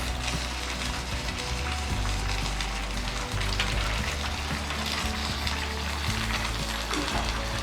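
Oil sizzling and crackling steadily in a pot while cooking Nigerian Afang soup, a continuous close frying hiss with faint clinks, no talking.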